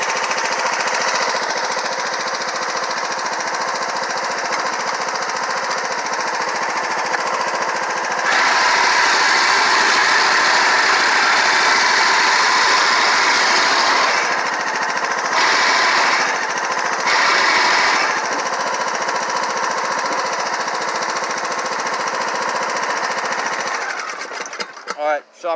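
A John Deere D110 riding mower with a Briggs engine runs with a failed plastic idler bearing, giving a continuous loud grinding, rattling whine that surges partway through, while someone talks over it.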